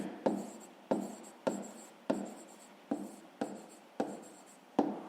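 Pen writing on paper while working a fifth-grade math exercise: a series of about nine close, distinct scratchy strokes with sharp onsets and short fading tails, in an otherwise quiet room.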